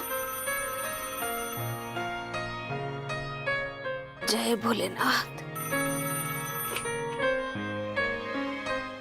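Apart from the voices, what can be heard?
phone ringing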